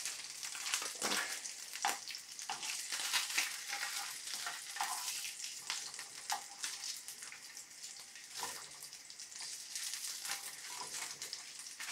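Vegan bacon frying in hot oil, a steady close crackling sizzle with sharp spitting pops scattered throughout, no voices over it.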